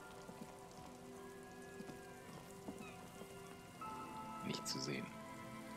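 Steady rain patters throughout a night scene in the video game Disco Elysium, a soft continuous hiss with faint tonal music underneath and a brief voice speaking near the end.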